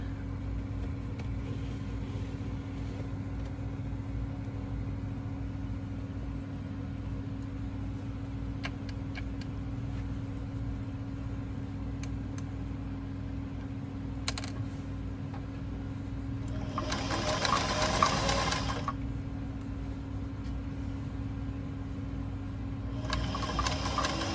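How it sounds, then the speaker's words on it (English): A sewing machine stitches stretch denim from overalls being turned into an apron, running in two short bursts near the end over a constant low room hum. "So now I'm going to go ahead and stitch this."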